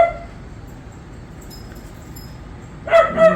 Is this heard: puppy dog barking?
yes